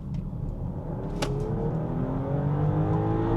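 An SUV engine revving as the pedal is pressed, a rising, building drone heard from inside the cabin, steady and loud throughout with a brief click early on, no voices.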